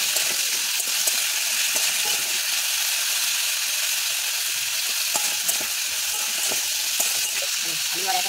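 Potatoes and vegetable stems sizzling in hot oil in a pan, a steady bright frying hiss with occasional pops and crackles throughout, close and continuous.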